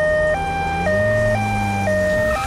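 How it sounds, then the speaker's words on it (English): Loud two-tone ambulance siren alternating high and low pitches in a steady rhythm, with an engine rumble underneath, in a cartoon. "We'll call an ambulance."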